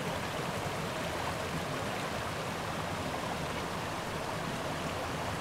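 Steady broadband rush of a forest stream running beneath ice along a trail, a continuous even wash of water heard alone with no voices.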